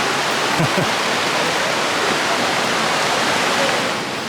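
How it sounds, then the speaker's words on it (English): A big waterfall at Emerald Bay near Lake Tahoe, steady and close, makes a dense, even rush of falling water that fills the whole clip without a break. "And there's a big waterfall right here."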